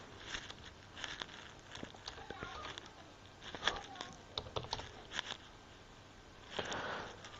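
Typing a captcha code on a computer keyboard, with soft, irregular key taps and clicks at close range over a faint background hiss.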